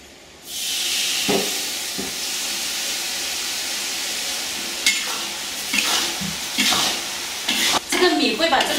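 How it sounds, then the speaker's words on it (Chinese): Rice wine poured over rice in a hot wok bursts into a loud, steady sizzle and hiss while it is stir-fried, with intermittent scraping and clinking of the spatula. "我们现在把这个米酒倒进去，"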